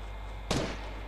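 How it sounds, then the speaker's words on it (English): A single sharp gunshot crack goes off during a Fortnite match, mid-loud and brief, over a steady low background hum. "What do I hear gunshots?"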